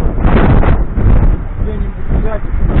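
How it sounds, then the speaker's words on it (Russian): Gusty wind buffets the microphone in a park, a loud rumbling roar that swells and eases. A muffled voice speaks faintly beneath it. "Ветер только, конечно."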